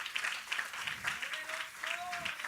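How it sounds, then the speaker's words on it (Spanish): Church congregation clapping together during a Spanish-language sermon, fairly quiet and somewhat rhythmic, with a voice briefly rising over the applause. "Dele un aplauso al Señor."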